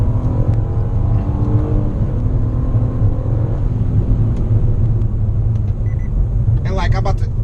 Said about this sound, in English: So I'm dropping a couple gears in a little CVT here.